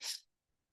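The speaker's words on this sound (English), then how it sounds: "and then you'll take a quick sniff of air," A single quick, sharp sniff of air through the nose, close and isolated, over in a fraction of a second before silence.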